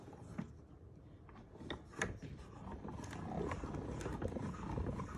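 A Stampin' Up! Cut and Emboss Machine cranks foil paper through an embossing folder on its platform, a faint, uneven grinding and ratcheting of rollers and gears at close range.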